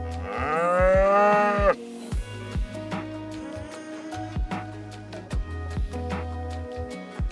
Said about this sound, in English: A cow.